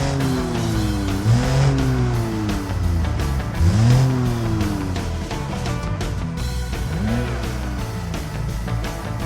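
Flathead inline-six engine in BeamNG.Drive fitted with a stage 3 drag race camshaft, revving hard in repeated rising and falling sweeps, loud and close, with no talk.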